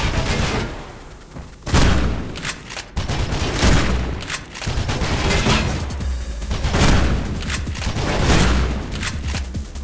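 Machine gun and shotgun fire in the video game Mirror's Edge, loud repeated bursts and heavy booming shots packed closely together, with impacts and thuds filling the dense, busy game mix.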